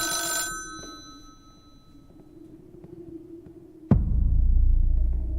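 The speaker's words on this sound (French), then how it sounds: "La sonnerie du téléphone me tire d'un sommeil agité." A telephone rings briefly at the start, a bright electronic tone, followed by a low hum and then a sudden loud rumbling thump.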